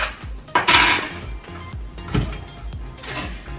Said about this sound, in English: Just gonna cut our green onions up